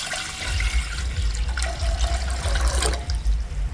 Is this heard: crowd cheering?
no